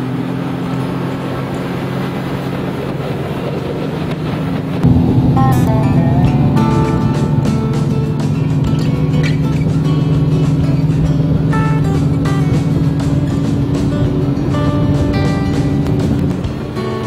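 A G3 LX3 25 Cruise Suncatcher pontoon boat with a Yamaha outboard engine running: a loud, steady motor drone that swells and rises sharply partway through, then holds a strong, even roar.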